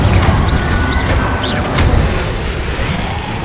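Confringo explosive spells in the Hogwarts Legacy wizard combat game thump and boom in quick succession amid continuous loud battle noise, with whistling magical streaks overhead.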